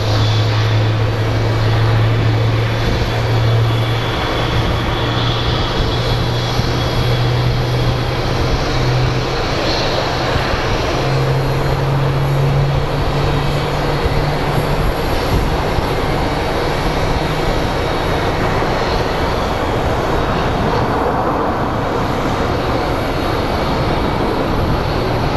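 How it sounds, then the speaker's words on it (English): Southwest Airlines airliner landing at Phoenix Sky Harbor airport, a loud continuous jet engine roar with a droning low hum that holds steady and then shifts in tone, heard from nearby at an outdoor spotting spot. "Southwest landing."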